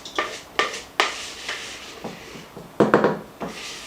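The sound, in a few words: apples being folded into bread batter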